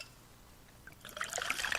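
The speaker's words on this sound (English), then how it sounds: "Listen to that endless pour." Pepsi Zero Sugar cola is poured, first as a faint trickle and then building to a bright fizzing, crackling stream of bubbles, close and clean with no voices.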